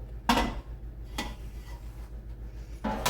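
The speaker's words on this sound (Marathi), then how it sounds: "ह्या परातीत आपण हे सगळं पीठ ओतणार आहोत" Clanks of a utensil against a large metal plate as cooked rice flour dough is tipped out of a pan, three sharp close impacts spaced apart over a low steady hum.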